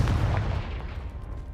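A Confringo blasting spell detonates in Hogwarts Legacy, a loud booming burst up front that rumbles heavily in the low end and then settles into a dull, fading roar.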